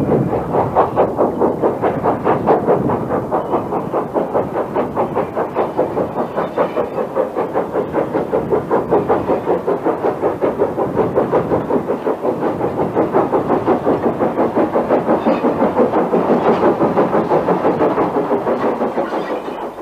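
A Lancashire and Yorkshire 0-6-0 steam locomotive on the move, its steady rhythmic chuffing and clanking beat running continuously and loudly, close by, with no voices.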